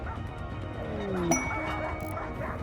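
Dogs in the video game RimWorld give a short bark amid faint game ambience and a brief chime.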